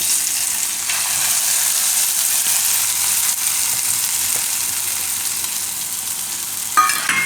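Saffron sweet rice (kesariya bhaat) gently mixed in a hot pan, giving a steady loud frying hiss with soft stirring scrapes throughout and a brief clink near the end, no talking.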